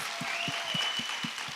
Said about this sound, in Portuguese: Uma salva de palmas para você que influencia criança